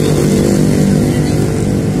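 Road race style motorcycle engine at a Monasco circuit revving loudly and steadily, a dense continuous roar close by with no gaps.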